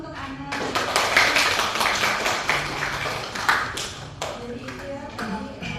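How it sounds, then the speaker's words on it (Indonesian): A classroom of students claps for classmate Ana after her history presentation, a short burst of scattered hand claps that swells and then thins out, with a teacher's voice speaking over it. "Tepuk tangan dulu untuk Ana"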